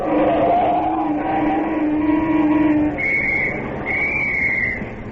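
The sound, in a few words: person whistling at someone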